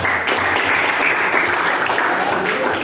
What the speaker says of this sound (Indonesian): Tepuk dulu oleh kelompok 1.